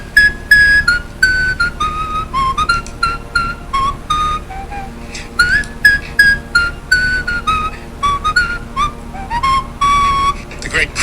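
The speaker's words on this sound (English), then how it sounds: "Chris Ullman, the world champion whistler" Melodic whistling by a world champion whistler, a clear, bright run of rapid trills and sliding notes that carries on steadily and close up for the whole stretch, with no talking over it.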